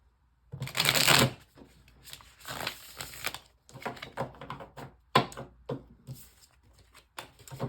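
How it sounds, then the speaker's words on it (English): Tarot cards being shuffled up close in several quick riffling bursts, crisp papery flutters with short pauses between them. "gonna do a couple shuffles here"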